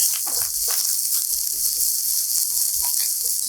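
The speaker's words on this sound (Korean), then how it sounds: "색깔 나기 시작하면 딱딱한 양파, 당근을 먼저 넣고 반 정도 익을 때까지 볶아주고" Garlic, onion and carrot stir-frying in a hot pan give a loud, continuous sizzle, with light scrapes and stirring knocks scattered throughout.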